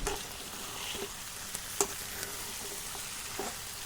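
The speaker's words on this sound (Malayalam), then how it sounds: "കുറച്ച് വേപ്പിൻ്റെ ഇലയും ഇട്ട് കൊടുക്കുക. എന്നിട്ട് വീണ്ടും ഇളക്കുക." Stirring fried rice after adding curry leaves to the pan, with a steady low sizzle of frying and a few sharp scraping clicks of the spoon against the metal, near and alone without voices.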